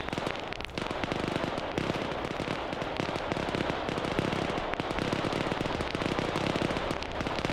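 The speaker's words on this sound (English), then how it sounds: "the fire bats are trying to fire in the air, but it's gonna dissipate" Firebat flamethrowers in StarCraft roar in a dense, continuous crackling burst. The blaze stays loud and unbroken throughout, with battle noise layered underneath.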